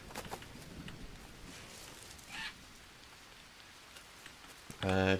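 Rain falls in the survival video game Green Hell as a faint, steady patter, with a few scattered clicks and a louder burst of sound right at the end.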